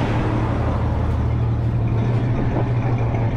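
A 1967 Plymouth Barracuda convertible's 273 V8 with four-barrel carburetor and dual exhaust idles steadily up close, a low rumbling drone with a constant throb and no other sounds.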